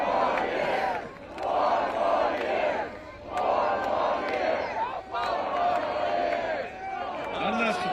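A large rally crowd cheers and shouts in sustained surging waves, loud and close, at a campaign-style event in Flint, Michigan, with brief dips between bursts of noise.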